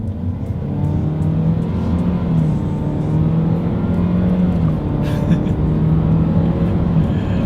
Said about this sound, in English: let's see how quickly we can get the new 2020 Nissan Rogue Sport here up the speed